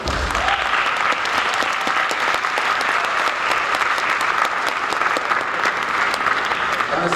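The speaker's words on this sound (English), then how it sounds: "So let's give another round of applause for all of our students." A school mariachi concert audience gives the students a loud, continuous round of applause, with dense, even clapping from many people throughout about seven seconds.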